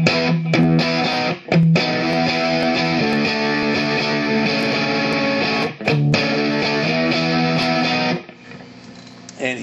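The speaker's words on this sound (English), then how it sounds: "Here is the distortion side by itself." Electric guitar played through the distortion side of a GT500 pedal, a loud, dense, saturated tone with sustained chords and a few brief gaps where the strings are re-struck, fading softer near the end.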